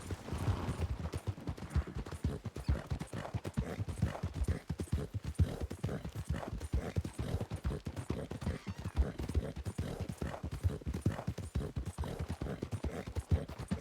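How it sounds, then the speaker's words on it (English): Horse hooves clip-clop in Red Dead Redemption 2 roleplay, a steady, fast run of hoofbeats that continues for about fourteen seconds, fairly faint. "Mills, move this horse quicker, please."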